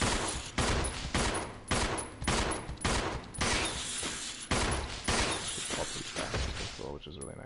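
Repeated loud explosive blasts and gunfire-like bursts from Resident Evil 0, where an explosive is set off to kill a group of plague crawlers; the bursts come in a steady rapid series over a dense, noisy background.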